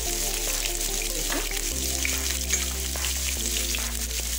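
Crushed garlic, a medium onion and mustard seeds frying in hot oil for a Coorg-style wild mango curry, a steady loud crackling sizzle throughout with faint stirring and a low background hum.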